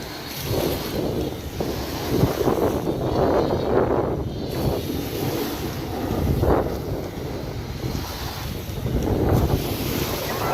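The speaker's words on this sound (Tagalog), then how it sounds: "lakas ng hangin. Maririnig nyo naman sa video." Strong wind roars steadily across the microphone at night in Batangas, buffeting in gusts, with surf-like rushing underneath and no talking.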